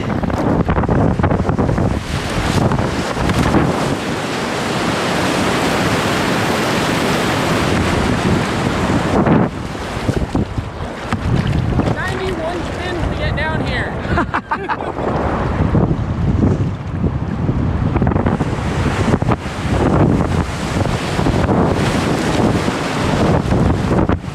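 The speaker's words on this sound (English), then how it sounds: "That wind is cold." Cold wind buffets the microphone on a boat out at sea, with a constant loud roar and gusty rumble over breaking waves and sloshing water.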